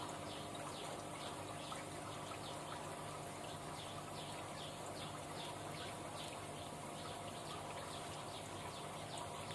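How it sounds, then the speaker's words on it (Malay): Water from a storage tank flowing steadily into a fish-rearing tank, a continuous soft trickling rush with pump-like hum, with faint chirping insects or birds in the background. "Kita lepaskan balik air tangki biar dia gerak masuk dalam kita."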